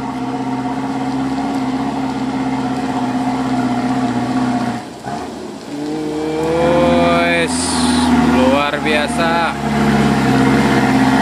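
A heavy Mitsubishi Fuso truck engine, loaded with vegetables, rumbles steadily, then revs up with rising, wavering pitch, loud and close, while people talk and shout nearby.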